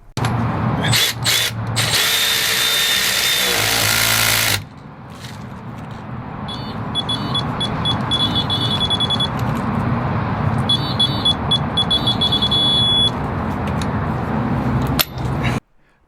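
A Milwaukee M12 FUEL 3/8-inch digital torque wrench tightening a fastener up to 76 foot-pounds: a loud motorized ratcheting whir in short bursts, then sustained running with repeated electronic beeps near the end.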